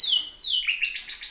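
A pet bird, a female with a plump belly, chirps in a quick run of high, bright tweets that slide downward and then break into short repeated notes, close and clear with no talk.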